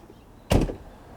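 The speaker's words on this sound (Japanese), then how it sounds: "ドア閉めると自動で上がります。じゃあちょっとドアを閉めてみちゃってください。" The door of a 1999 Ford F350 XLT Super Duty pickup, which has a powered retracting side step, shuts with a single solid, close thud that fades quickly into quiet.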